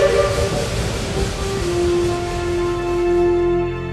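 A steam train's whistle sounds a long, sustained tone over a hissing, rumbling background, steady and fairly loud before fading slightly at the end.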